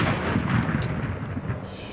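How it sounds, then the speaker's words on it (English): A single ceremonial cannon blast at a memorial for Gerald Ford by the US Capitol, a deep booming rumble that fills the short clip at close range. "every 30 minutes a single cannon was fired."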